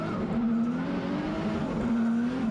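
A drift race car at Formula Drift Japan 2019 at Ebisu revs hard under acceleration into the first corner, a steady loud engine drone with a rising and falling pitch and no talk over it.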